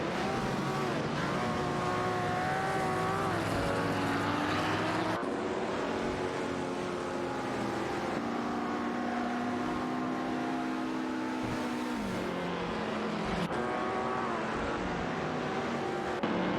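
Race cars including an Aston Martin Vantage 77 and a Ferrari 250 GTO roar continuously in a video game race, engines droning with shifting pitch and abrupt cuts between sounds, loud and unbroken throughout.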